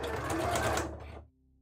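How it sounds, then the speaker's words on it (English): A sewing machine stitches in a quick steady run, close and fairly quiet, then stops abruptly, leaving a faint hum. "It's been a while since I used a sewing machine"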